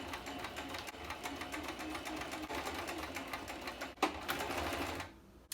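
A sewing machine stitches the shoulder seams of a handmade garment, its rapid mechanical chatter running steadily and close up before stopping abruptly near the end.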